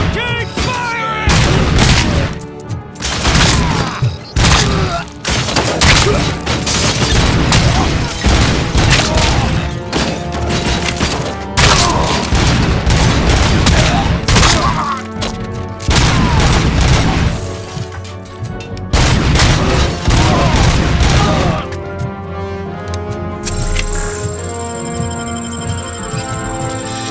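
Heavy sustained gunfire and booming blasts in RoboCop: Rogue City, loud dense bursts of shots and crashes continuing almost without pause, easing toward the end.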